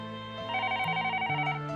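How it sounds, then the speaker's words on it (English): Telephone ringing in the Higurashi video game, a tonal electronic ring with stepped melodic notes that shift in pitch, moderately loud and alone, no talk. "Is that your phone ringing?"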